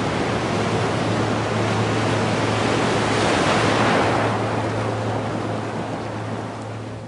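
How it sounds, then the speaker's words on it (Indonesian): Ocean waves crash and surge continuously at sea, a loud, steady roar that swells toward the middle and eases off, with no voices. "Datang ombak menerjang selama kami mencoba menarik benda dari laut."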